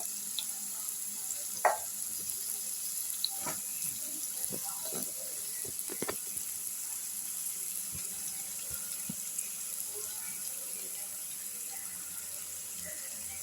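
Curry leaves tossed into hot oil for a Kerala-style beef curry give off a steady, faint hiss, with scattered soft pops and crackles close by.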